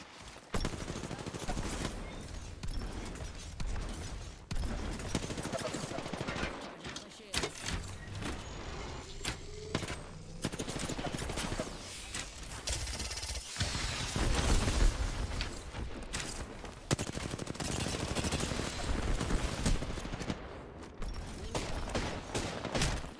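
Dense gunfire in an Apex Legends arena match, with repeated loud, sharp shots and bursts running almost continuously, mixed with other game noise and voices talking over the action.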